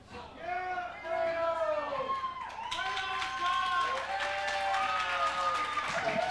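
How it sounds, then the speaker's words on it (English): A capacity wrestling crowd at a UWF show in Las Vegas claps and cheers in a broad, continuous wash, heard beneath a commentator's speech and some tonal ringing. "Capacity crowd giving a nice hand for Fredo O'Reilly"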